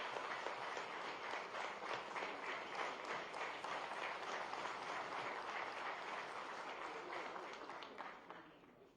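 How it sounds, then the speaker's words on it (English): An audience gives a sustained round of applause at a state government MoU signing ceremony on artificial intelligence for banking, financial services and insurance, steady and even before fading out at the end. "So please give a round of applause."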